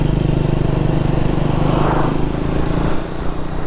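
A Triumph Speed 400 motorcycle engine drones steadily nearby, a continuous low hum that eases slightly toward the end.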